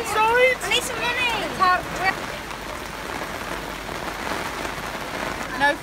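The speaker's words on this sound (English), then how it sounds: "What's better than sitting under an umbrella in the rain?" Rain patters steadily on an umbrella over someone sitting outside at a caravan site in France, a dense close hiss throughout, with voices and high squeaky vocal sounds over it in the first couple of seconds.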